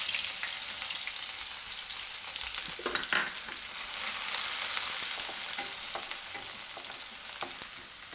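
Green garlic sizzles steadily in hot oil in a home kitchen pan, a loud even crackle with a few brief stirring clatters midway.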